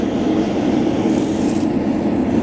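A steady, loud roaring rush fills the space without pause, a gas forge burner blasting continuously up close while heating metal knife blanks.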